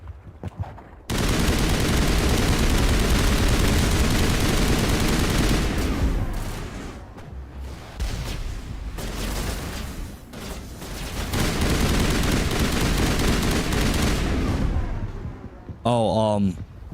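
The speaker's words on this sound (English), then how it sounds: "There's people over here shooting." Sustained gunfire in Mass Effect, dense continuous volleys of shots and booms roaring loudly for most of the stretch with brief lulls, while a voice talks over the noise.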